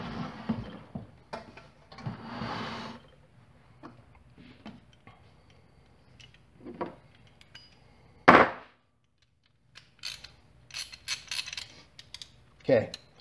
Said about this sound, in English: Okay, let's go ahead and torque it down.